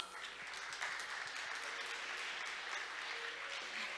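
Audience applause at a maritime conference session in Korea, a steady wash of clapping from a seated crowd, moderately distant and sustained for several seconds without a break.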